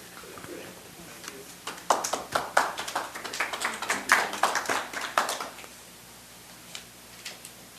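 Scattered applause from a small audience at the close of a contracting talk, a few pairs of hands clapping unevenly for several seconds before thinning out, with faint room murmur.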